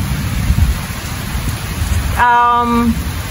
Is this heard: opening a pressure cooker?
no